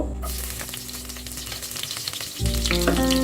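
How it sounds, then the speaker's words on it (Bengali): Chopped garlic fries in mustard oil in a cooking pot for beef bhuna, giving a steady close hiss that surges and thickens near the end as more goes in. "কিছু রসুন কুচি দিয়ে দিব"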